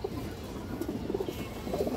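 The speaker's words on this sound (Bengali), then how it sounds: "এই দেখেন অনেক সুন্দর একটা মাদি কবুতর, একদম পুতুলের মতো একটা মাদি" Female pigeon, a jira-necked hen, coos softly in a few low, rounded pulses against a steady background hiss, faint and close.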